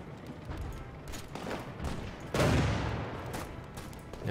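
Gunfire in the video game Panzer: a rapid string of shots and bursts rattles along, with a louder, longer blast about halfway through, all fairly close and dense against a rumbling background.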